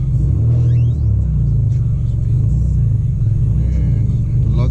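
A Nissan Gloria with a VG30DET engine rumbles loudly at low, steady revs as it creeps up onto a trailer, its deep idling drone continuous and close throughout.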